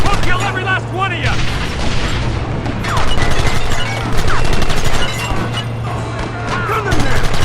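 Gunfire crackles in Red Dead Redemption, a chaotic mix of shots and booms in bursts, with voices shouting over the firefight.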